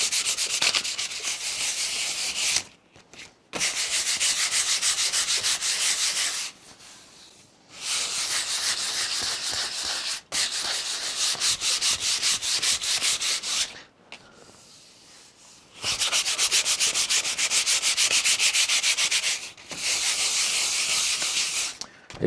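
A wooden panel is sanded by hand to prepare it for painting: long bursts of steady, close, raspy rubbing, each several seconds long, separated by short pauses, with no talking.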